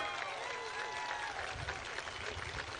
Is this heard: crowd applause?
yes